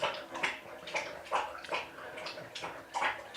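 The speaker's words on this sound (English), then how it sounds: "Sorry, the dog's drinking water." A dog laps up drinking water in repeated wet slurps at a steady rhythm, close by and fairly quiet, with no talk over it.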